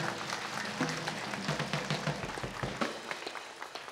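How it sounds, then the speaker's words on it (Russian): Studio audience on a Russian TV lottery game show applauding a contestant, a dense, steady wash of many hands clapping throughout, fairly loud and continuous. "Мы аплодируем Тамаре."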